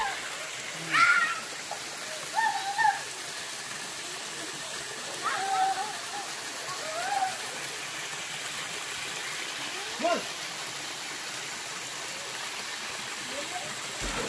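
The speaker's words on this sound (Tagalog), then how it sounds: "Yan, so dito na kami sa Busay. Yan yung falls." A waterfall at Busay in Dacdacanan, San Joaquin, running with weak flow during the dry season gives a steady, soft wash of falling water, with a few brief voices and other sounds breaking in now and then.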